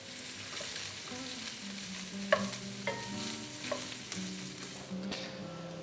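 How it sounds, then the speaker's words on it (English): Chopped onion sautés in avocado oil as a soft, steady sizzle, with repeated utensil taps and stirring scrapes in the pan and faint tonal background sounds. "I'm going to saute this onion just until it becomes soft."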